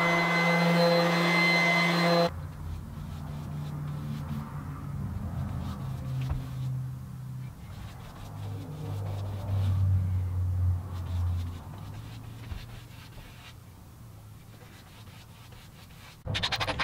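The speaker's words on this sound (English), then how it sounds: "so I decided to sand it back down and apply a couple of coats of a satin polyurethane" Sanding polyurethane finish off a horseshoe bench, a steady abrasive scratching hum with a louder machine-like whir at the start, continuous and close with slight variations in pressure.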